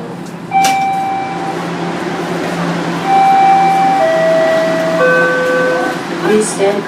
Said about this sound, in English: Doors will open on the right.